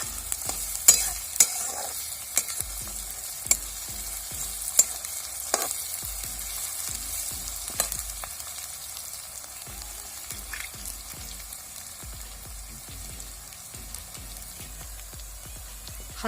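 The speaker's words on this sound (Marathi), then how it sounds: "मिरची व्यवस्थित फ्राय झाली पाहिजे" Green chilies frying in oil in a pan for zunka while being stirred, a soft steady sizzle with scattered scraping and clinking of the spoon against the pan, close and without talk.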